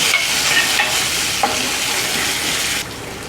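Garlic, ginger and green chillies frying in a pan for street-cart-style idli kurma: a loud, close, steady hiss of hot oil with light stirring scrapes, easing off slightly near the end.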